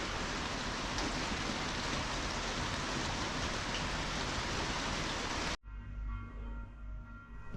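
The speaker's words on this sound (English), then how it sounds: "So another version of Ohrid, icy rain." Steady, dense hiss of icy rain falling on surfaces nearby in Ohrid, North Macedonia, constant and loud, then cutting abruptly to a quieter background near the end.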